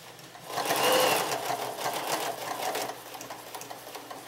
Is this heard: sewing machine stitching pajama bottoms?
yes